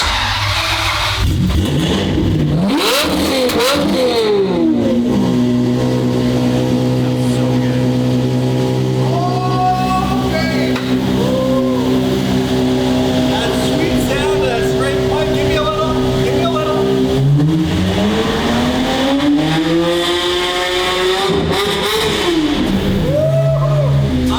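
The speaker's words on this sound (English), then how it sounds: "listen to that V12 sing through that custom exhaust that I made" A Ferrari F12 V12 engine revs and roars loudly through a custom exhaust, its pitch climbing and falling in long sweeps, with a sharp burst at the start and voices mixed in at moments.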